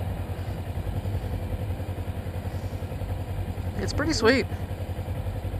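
A Kawasaki Ninja 300 motorcycle engine runs at a steady low idle throughout a test ride, its rumble sitting under a close voice that talks over it.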